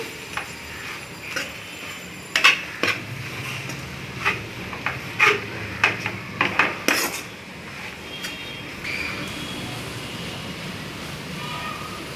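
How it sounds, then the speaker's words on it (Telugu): A ladle stirs village-style gongura curry with onion pieces, salt, chili and turmeric in a pan. Irregular metallic clinks and taps against the pan sound up close over a quiet background. "ఇలా వీడియోలో చూపిస్తున్నట్లు గరిటెతో బాగా కలుపుకోవాలి."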